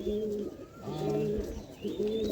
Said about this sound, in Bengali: আজকে আমরা যে পায়রাগুলো কিছু শখ করাবে যেগুলো কম্পিটিশনে রেজাল্ট করেছে